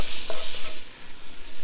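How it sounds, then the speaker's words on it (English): Garlic and spices sizzle in a pot for a Georgian chicken stew, with a spoon stirring through them in a few soft scrapes over the steady frying hiss. "Put all that in. Just stir it around."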